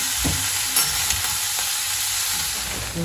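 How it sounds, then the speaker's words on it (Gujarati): Vegetables sizzle and crackle in hot oil, a steady broad hiss with a few sharp pops and stirring clatter, close and loud, no voices. "આ બધું એને શાક તળવા મૂકી દીધું બધું વેજીટેબલ"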